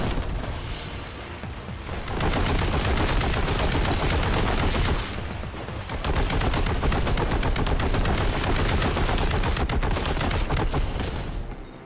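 Warhammer 40,000: Boltgun game gunfire, a dense, loud, rapid stream of automatic shots and blasts that pauses briefly and then resumes, near and continuous.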